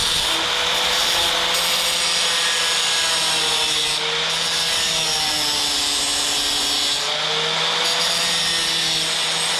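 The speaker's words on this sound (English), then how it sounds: "I'll just work my way up to it with my tabletop grinder" Tabletop grinder cutting a little off the end of a part during a roller cam swap on a 1955 Plymouth, a steady close grinding and rubbing hum that runs unbroken throughout.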